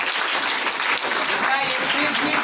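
A crowd at a school festival celebrating girls' education breaks into sustained applause, a dense, steady roar of many clapping hands that fills the space from start to finish.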